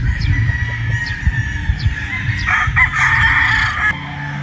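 A Gilmore gamefowl rooster crows on a fruit farm, its call ringing out close and clear over a background of clucking and other fowl.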